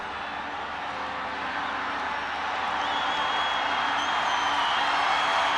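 Stadium crowd at a women's international championship football final between Nepal and Myanmar, a steady broad roar of massed spectators that swells slightly louder toward the end, with no distinct claps or chants standing out.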